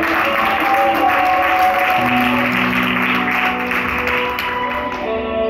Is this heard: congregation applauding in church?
yes